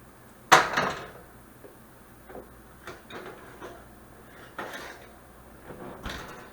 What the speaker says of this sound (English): we're going to pull these out of the oven